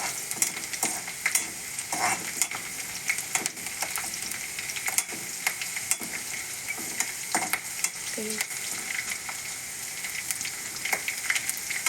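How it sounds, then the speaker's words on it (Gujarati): Garlic and green chilies sauté in hot oil for a vegetable rice dish, a steady close sizzle and crackle broken by scraping stirs, with no talking over it. "આપણે આ લસણ અને લીલા મરચાં એડ કરીશું અને થોડું સાતળી લઈશું"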